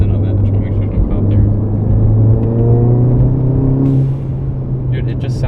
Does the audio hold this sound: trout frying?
no